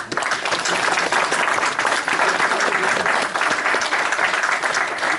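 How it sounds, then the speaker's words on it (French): An audience at a CCI Montpellier SEO talk breaks into steady, dense applause for Nicolas, a continuous wash of many hands clapping at close range, loud and sustained throughout with no talking over it. "Je pense qu'on peut applaudir notre camarade Nicolas."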